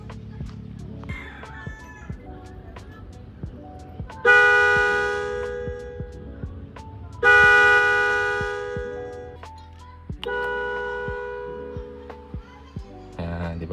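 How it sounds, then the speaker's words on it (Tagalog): An Arena 3 car horn with an eco function sounds on a Honda Civic FD in three separate blasts, each a bright, loud multi-tone honk lasting one to three seconds. Someone talks quietly between and under them. "So naka Arena 3 tayo na busina na with eco function."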